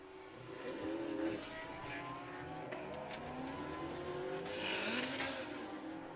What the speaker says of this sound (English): Chris Picorni on track now in the Fox Body Mustang